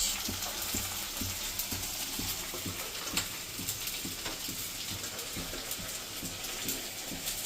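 Onions, potatoes, cabbage and tomatoes fry in a pan over a medium gas flame for puffed-rice khichdi, giving a steady, close sizzle with faint intermittent stirring scrapes.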